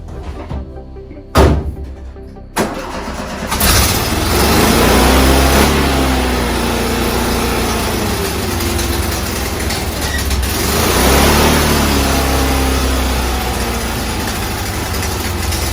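An old bus, back on the road after sixteen years, cranks with a couple of sharp clunks and catches into a loud, steady rumbling idle that drones on with slight swells, no voices present.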